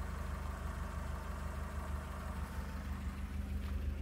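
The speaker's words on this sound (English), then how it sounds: "Very quiet, just very quiet engine." A 1990 Ford Probe GT Turbo idles steadily at a low, quiet level, giving a smooth, even engine hum with no revving and no voices.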